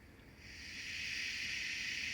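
A steady high hiss of escaping steam from a steam locomotive swells in over the first second and holds loud and even, with no voices.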